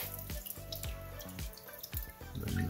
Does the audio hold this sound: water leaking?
yes